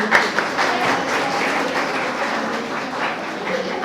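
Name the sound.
applause for an audience member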